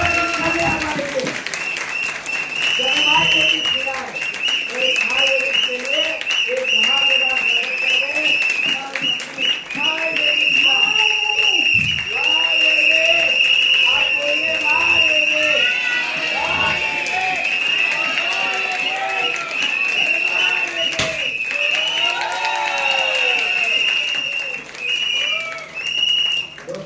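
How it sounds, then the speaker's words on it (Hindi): A seated audience applauds at an Ayurveda event in Goa, with dense sustained clapping mixed with crowd noise and a voice speaking over it for most of the stretch. "अरे तालियां हो जानी चाहिए अपने आप के लिए"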